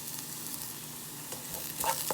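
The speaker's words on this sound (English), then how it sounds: "I'm going to stir it just a little bit to cool it down a little bit" Macaroni, egg and cheddar mixture sizzling in a hot pan as it is stirred, a steady close frying hiss with a soft scrape of the spoon near the end.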